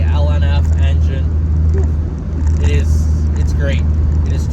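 A Pontiac Solstice GXP with the LNF engine drives at speed with its top up, a steady engine and road drone running loud and continuous while someone talks over it.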